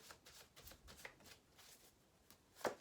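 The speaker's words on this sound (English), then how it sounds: "I just want to pull a couple of Romance Angel Oracle cards for you" Romance Angel Oracle cards riffled and drawn from a deck, a quiet close-up series of soft flicks and shuffling rustles ending in one sharper card snap near the end; no talking.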